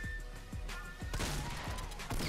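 Gunfire from a Fortnite Battle Royale match comes as a rapid burst of sharp cracks and impacts over about two seconds, moderately loud against a low background hum.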